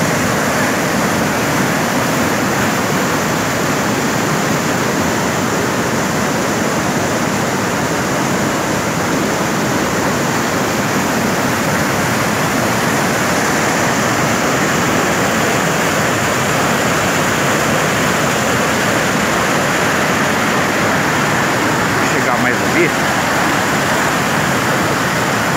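Flash flood in the Ribeirão Grande stream, a continuous loud broadband roar of rushing water that holds steady throughout with no pauses or voices.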